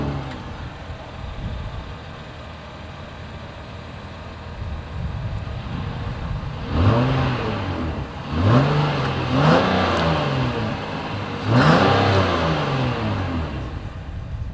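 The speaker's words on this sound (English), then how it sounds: "you guys know what we have to do next is always here is that exhaust clip" Exhaust of a 2023 Acura MDX, a steady idle rising into three distinct revving bursts with falling pitch sweeps, close and fairly loud, with no talking.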